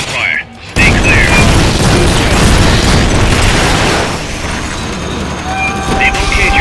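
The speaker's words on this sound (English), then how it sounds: "They're about to commence the requested supporting fire." Supporting fire explosions in Metal Gear Solid Peace Walker, a loud rumbling bombardment that erupts after a brief lull and rolls on continuously, with faint radio voices briefly heard.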